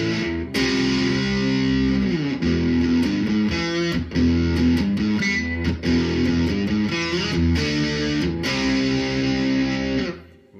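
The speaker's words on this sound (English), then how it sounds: "Let's do a humbucker down here at the bridge, and we'll throw the distortion on there." A distorted electric guitar through a bridge humbucker and a Fender Princeton Chorus amp plays a run of crunchy chords and riffs, loud and sustained, with brief gaps between phrases before ringing out at the end.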